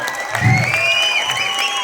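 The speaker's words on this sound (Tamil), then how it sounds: "அவங்களுக்கும் ஒரு கைத்தட்டு கொடுத்தா நல்லா இருக்கும்" Theatre audience clapping steadily throughout, a dense continuous patter with faint cheering and whistling-like tones above, fairly close and loud, no talk over it.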